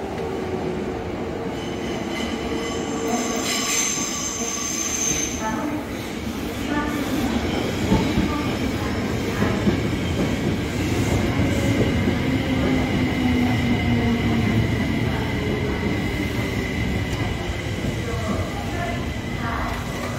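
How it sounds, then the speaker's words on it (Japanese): A Marunouchi Line subway train rumbles in and slows at Yotsuya Station platform 2, wheels grinding and squealing, with a faint announcement voice and hum in the background. "The local train bound for 池袋 is arriving at track 2."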